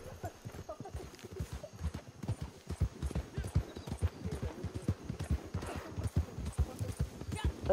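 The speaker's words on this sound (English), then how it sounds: "My horse, come back." Horse hooves clip-clop steadily across the ground in Red Dead Redemption 2, a quick, even rhythm of close hoof strikes that continues throughout while voices talk over it.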